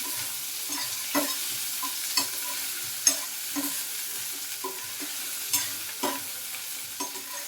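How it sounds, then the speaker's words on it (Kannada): Tomato frying and being stirred in a pan for Hyderabadi dhaba-style paneer gravy: a steady soft sizzle broken by regular scraping spoon strokes roughly every second, close and alone with no talking. "ಟೊಮೆಟೊ ಹಾಕ್ಕೊಂಡು ಸ್ವಲ್ಪ ಫ್ರೈ ಮಾಡಬೇಕು."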